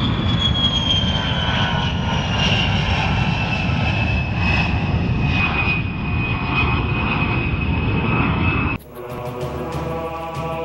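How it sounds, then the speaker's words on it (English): A fixed-wing aircraft takes off with a loud, steady engine roar and a rising whine that holds close for several seconds before cutting away into music. "Tower, you are cleared for takeoff."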